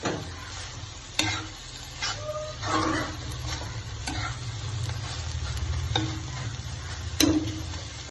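Stuffed squid filling sautéing in a pan on a raised flame, a steady sizzle punctuated by sharp spatula taps and scrapes at irregular intervals, close and without voices.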